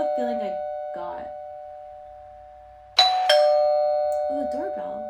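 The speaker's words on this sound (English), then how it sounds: "Oh, the doorbell." Two-tone electronic doorbell chime rings twice in quick succession, clear and close, with a person talking before and after it.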